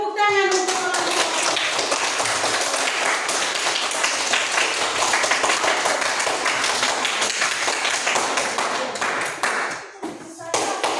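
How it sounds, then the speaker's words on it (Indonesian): Clapping for a student group in a classroom, quick sharp hand claps packed densely and close, with voices of people talking mixed in throughout and a brief dip near the end. "tepuk tangan untuk kelompok"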